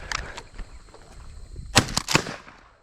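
Shotgun blasts while dove hunting in an open field: after quiet rustling, a sharp shot is followed quickly by a second, fairly close and loud.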